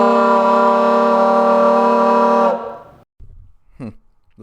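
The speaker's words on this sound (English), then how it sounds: "First I used to blow on a trumpet, now I'm blowing these pipes" A homemade instrument made of pipes, blown into a loud, steady horn-like tone that holds for a couple of seconds and then cuts off. A few short, softer toots and breaths follow.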